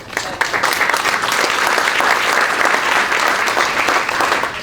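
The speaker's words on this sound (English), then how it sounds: "big round of applause to thank him" An audience claps steadily for several seconds, a full, dense round of applause that holds at an even level before easing slightly at the end.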